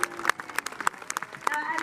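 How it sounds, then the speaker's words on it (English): Audience clapping for the horses at a jousting show at Warwick Castle, a scattered, uneven patter of hands rising and falling over about two seconds, with tonal voices or music faintly underneath. "Please put your hands together now for the horses."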